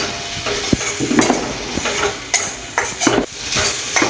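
Chicken is stir-fried in a pan for a chana dal curry, a steady sizzle broken by repeated metal spatula scrapes and clanks against the pan, close up and without speech.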